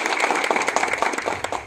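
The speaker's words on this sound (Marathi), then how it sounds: "ललित साठी एकदा जोरदार टाळ्या होत आहे." Crowd at a village gathering in Junnar taluka claps together, a brief burst of dense, rapid applause lasting under two seconds.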